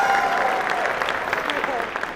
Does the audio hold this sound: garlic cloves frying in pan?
no